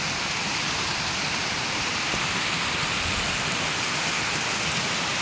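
Water pours over a dam spillway in a village fishing spot, a loud, steady, broadband roar with no break from start to finish.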